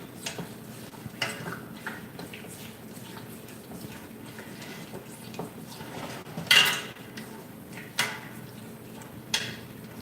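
Caramel ingredients being mixed in a bowl, with irregular clinks and scrapes of a utensil against the dish and one louder clatter midway, close and without talk.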